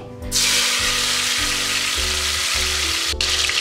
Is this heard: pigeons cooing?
no